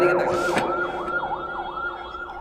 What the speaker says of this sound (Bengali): ডানে কি অ্যাম্বুলেন্স যাচ্ছে